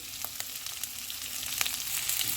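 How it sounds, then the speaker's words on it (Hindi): Chilli chicken ingredients frying in a pan over medium heat, giving a continuous close sizzle with small crackling pops and light stirring that grows slightly louder toward the end. "चूल्हे को मीडियम कर देंगे और इनको 1 मिनट तक फ्राई करेंगे।"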